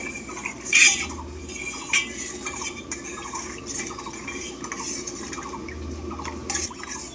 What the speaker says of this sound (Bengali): ভালো করে মিশিয়ে নিচ্ছি দুধের সাথে